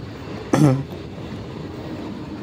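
A passenger train departing Haripal station rumbles steadily from inside the carriage, with a brief loud tonal squeal or horn-like burst early on, and no talk.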